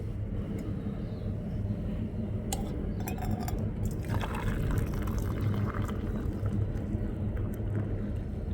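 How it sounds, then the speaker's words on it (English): A steady pour of tea into a cup over a low background hum from a Primus 41 stove, with a few brief clinks and splashes partway through; no talking. "Pour a cup of tea."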